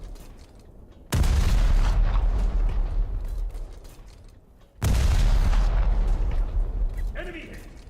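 Two heavy booms from a ship being hit and exploding in a naval combat game, each a sudden loud blast followed by a long rumbling decay, spaced a few seconds apart.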